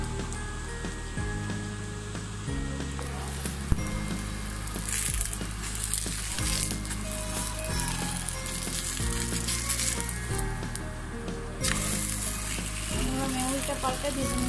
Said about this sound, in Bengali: আমি আরও একটা পরোটা দিয়ে দিলাম, আস্তে অল্প আছে, আমি এটাও ভেজে নিচ্ছি খুব ভালোভাবে।